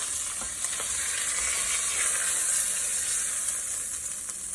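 Veal ossobuco browning in hot oil in a pan, a loud, dense, continuous sizzle and crackle with faint stirring scrapes, close up.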